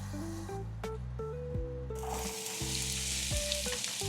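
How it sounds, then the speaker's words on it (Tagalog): Sliced onions sizzle and fry in butter for a Kapampangan sisig, a steady close-up crackle that grows denser and brighter partway through, with tonal background music running underneath. "Ito na nga pala yung mga nahiwa kong sibuyas. Ang gagawin ko is lulutuin ko sila sa butter."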